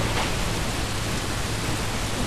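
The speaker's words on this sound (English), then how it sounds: "Nothing like some heavy rain after a good old EMP." Heavy rain in the video game Modern Warfare 2 forms a steady, dense wash of hiss that holds evenly throughout, with a low rumble underneath and no voices.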